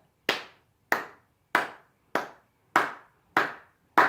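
Seven sharp hand claps spaced evenly about 0.6 seconds apart, a steady rhythmic pattern tapping out fruit names in a children's rhythm exercise, close and clear with no voices.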